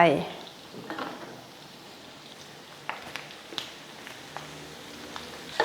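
Pork belly fries in oil over low heat in a pan with kaffir lime leaves, a faint steady sizzle broken by occasional light clinks and stirring taps of utensils.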